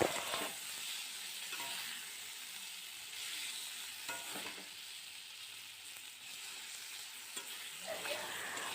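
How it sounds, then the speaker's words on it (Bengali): Pointed gourd (potol) frying in oil, a faint, steady sizzle and hiss with occasional light stirring sounds, heard alone. "পটলটা ভাজা হয়ে গেছে, এবারে তুলে নেব"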